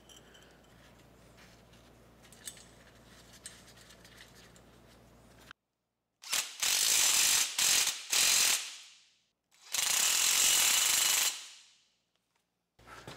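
A ratchet tightens bolts holding sickle sections onto a hay mower cutter bar, with loud, close rapid clicking in several bursts after a quieter stretch of background noise.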